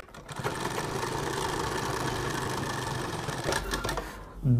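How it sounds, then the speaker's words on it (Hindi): A sewing machine runs continuously at a steady pace while sewing a pleated face mask, a close mechanical whir with a slight rhythmic clatter that holds for several seconds before stopping. "यहाँ से सिलाई लगानी शुरू करनी है"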